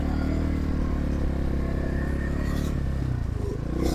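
A Trailmaster TM31 engine idling while still cold, a steady rough mid-pitched drone with a faint clatter, close and continuous throughout with no talking.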